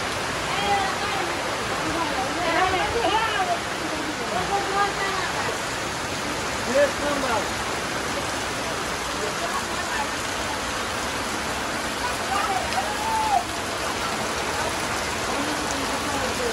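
Steady rain pouring down over a Bangladeshi village during the rice harvest, a continuous wash of hiss with faint voices now and then in the background.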